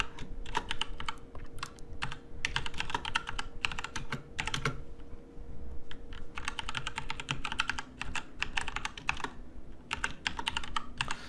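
Typing on a computer keyboard while entering code in a CNN deep learning class, dense runs of close key clicks with brief gaps, a faint steady hum underneath and no speech.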